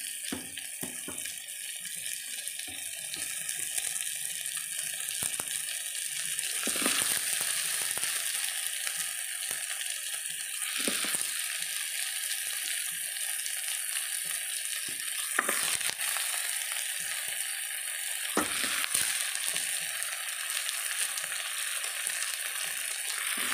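Potato frying in a pan for a Filipino beef kinamatisan dish, with a steady, close hissing sizzle throughout and a few brief louder bursts of spatter, no voices.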